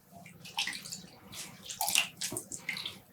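Water splashes and trickles as freshly dyed yarn is squeezed out over a rinsing bowl, with several short wet bursts and drips, close and fairly quiet.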